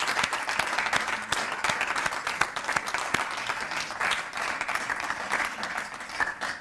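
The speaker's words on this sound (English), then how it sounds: "Can we give Chris one final round of applause" A room of members and friends gives a long, steady round of applause at an evening event honouring Professor Christopher Stein, the dense clapping holding an even level throughout with a little speech mixed in.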